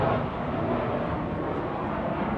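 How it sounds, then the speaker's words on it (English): An airplane flying near an airstrip gives a continuous low, rumbling roar. It is fairly loud and steady, with no speech. "Sorry about the plane, guys."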